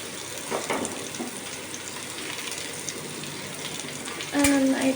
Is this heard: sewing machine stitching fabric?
no